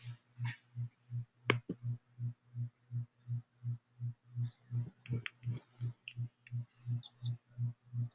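Computer mouse clicking save in Salesforce, a steady rapid train of close, dry clicks repeating evenly, with a few sharper ticks scattered on top.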